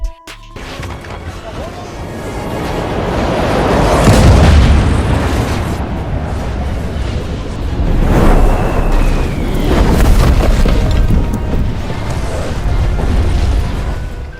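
Asteroid impact explosion sound effect: deep, loud rolling booms that swell and return in waves over several seconds, with a voice narrating over them.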